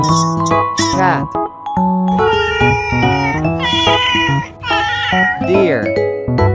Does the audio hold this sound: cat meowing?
yes